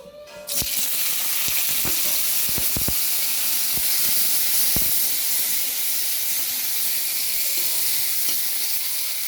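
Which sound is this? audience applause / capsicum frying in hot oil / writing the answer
capsicum frying in hot oil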